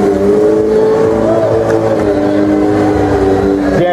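A stunt motorcycle engine at a street-jam show at a motorcycle exhibition, droning loud and steady with shifting revs under a broad crowd-and-arena roar throughout.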